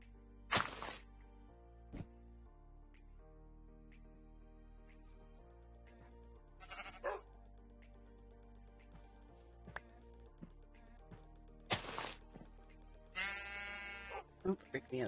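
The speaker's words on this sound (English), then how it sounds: "Don't freak me out, sheep" Sheep in Minecraft bleat in several separate, fairly loud calls spread over quiet game background, with a few thumps and knocks in between.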